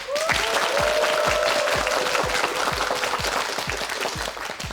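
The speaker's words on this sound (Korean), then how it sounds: "박수 보내주세요." Sustained applause from a TV quiz show studio audience, dense clapping throughout with a steady rhythmic beat underneath and a tone sweeping briefly near the start.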